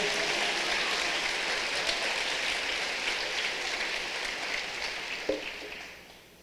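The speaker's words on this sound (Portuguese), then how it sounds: "pode dar o seu melhor aplauso a Ele nessa manhã" Church congregation giving a morning round of applause, a fairly faint, steady sheet of many hands clapping that holds for several seconds before fading out near the end.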